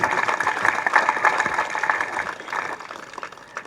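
Audience applause at a DMK political event in Chennai, a steady mass of clapping from a crowd that stays fairly even throughout, with faint voices mixed in.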